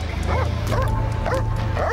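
A police K9 dog barks in short repeated bow-wow bursts, three or four loud yips close by over a steady low background rumble.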